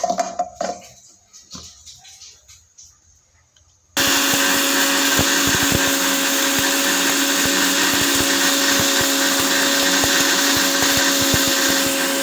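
An electric grinder roars into a loud, steady whir as it grinds pepper, turmeric, coriander and cumin, starting abruptly after a few seconds of quieter handling clatter and running continuously to the end.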